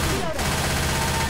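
Rapid automatic gunfire in Left 4 Dead 2 crackles loud and continuous through the whole stretch, with game noise layered underneath.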